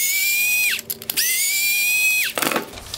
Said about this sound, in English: To remove the projector from this bracket, we need to remove the top T15 screws.